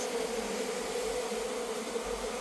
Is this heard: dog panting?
no